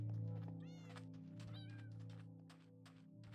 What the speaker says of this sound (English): I'm gonna have a whole trail of calico cats.